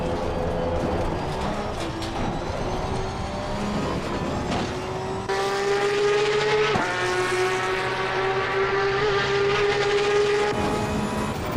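A Porsche 992 Cup race car in Assetto Corsa Competizione VR at the Nordschleife, with a loud, continuous engine note rising and falling through gear changes. A sharp upshift jumps the pitch, and it keeps revving hard throughout.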